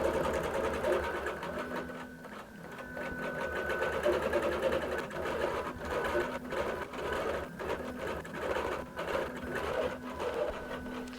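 A QBOT V3 robotic quilting system drives a sewing machine through a quilt, a steady close whirring stitch hum with a fast rhythmic pulse running continuously at a constant level.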